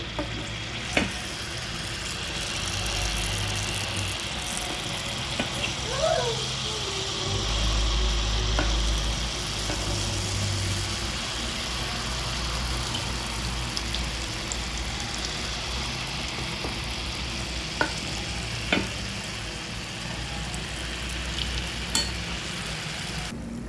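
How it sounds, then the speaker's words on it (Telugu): Sweet wheat-flour dough fries in hot oil, making a steady, close bubbling sizzle that runs throughout, with a low rumble underneath and a few sharp clicks and taps. "నూనె కాగిన తర్వాత ఇలా వేస్తే"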